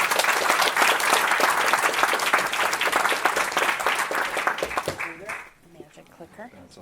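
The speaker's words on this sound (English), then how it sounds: "A rousing applause for our city manager," A conference audience in the City of Victoria gives loud, dense applause for the city manager, steady clapping that tapers off after about five seconds as a voice starts speaking.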